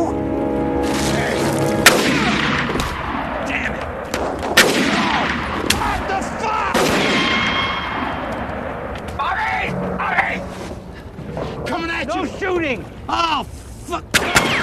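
Gunfire in a film shootout at the docks, with sharp repeated shots and heavy booms ringing out in irregular bursts over about fifteen seconds, mixed with shouting voices and echoing impacts.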